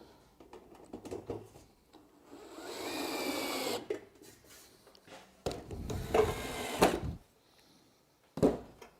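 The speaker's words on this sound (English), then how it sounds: "now I'm just going to screw it down into the timber" A power drill driving self-tapping screws down into timber for a galvanised planter box, with several separate bursts of whirring motor noise of varying length, close and moderately loud, separated by quiet pauses.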